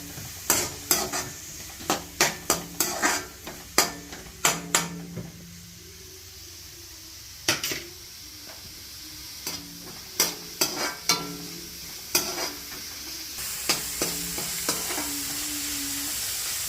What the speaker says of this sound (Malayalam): നമ്മൾ ക്യാപ്സിക്കം ഇട്ടു. നല്ലോണം മിക്സ് ആക്കണേ.